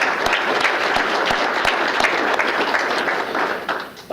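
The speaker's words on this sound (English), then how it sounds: "let's just have a round of applause for her" A sustained round of clapping from the audience at a mayor's employee recognition awards ceremony honours an award nominee. It holds steady and fairly loud for about four seconds before easing slightly at the end.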